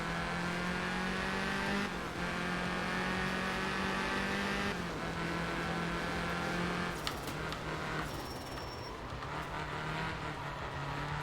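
Rally car engine in the racing game Art of Rally, a steady loud droning motor with shifting harmonic pitch as it revs and changes gear, alone without talk.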